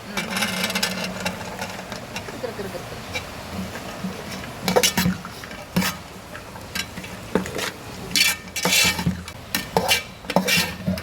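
Beef stirred into fried meat masala in a pan for pickle, a steady low sizzle under repeated sharp scraping and clanking of a spoon against the metal pan, close and fairly loud.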